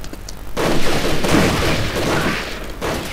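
Shotgun-wielding enemies firing in the Army Men: Sarge's War video game, a loud burst of repeated gunshots and booms following a brief quieter moment, densely layered and sustained for most of the clip.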